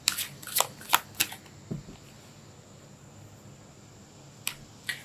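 Tarot cards being shuffled close up, a few quick riffling bursts and soft slaps at the start, then a quiet stretch before two more light card snaps near the end.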